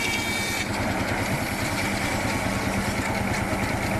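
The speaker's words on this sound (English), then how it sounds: "Powered by the traction engine here. Steam powered. The belt linked up to the saw there." Steam traction engine at a country show driving a belt-powered wood-cutting saw, a steady loud mechanical chugging drone with a continuous hum and a faint high whine, close and unbroken throughout.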